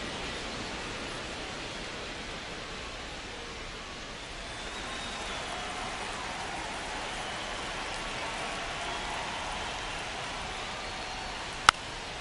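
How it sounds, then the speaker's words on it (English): Steady heavy rain falls on a baseball field in the video game MLB The Show 25, a constant even hiss for the whole stretch with one sharp click near the end and no talk. "It's coming down pretty good."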